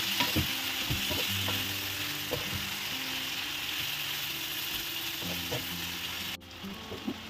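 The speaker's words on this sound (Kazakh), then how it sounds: "Ал енді үстіне чесногымызды турап, тағы да араластырамыз." Chopped garlic stirred into hot oil in a frying pan while cooking Kazakh zhaima: a steady close sizzle with scraping and clicking stirs, dropping off abruptly near the end.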